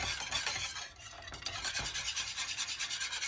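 A whisk beats cinnamon into a vinegar pie filling in a bowl, a close, rapid rhythmic swishing and scraping that pauses briefly before resuming steadily.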